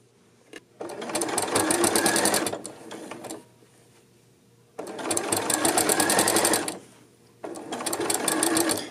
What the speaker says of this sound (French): je rembarque sur ma couture. Et puis, je fais mon point de taquage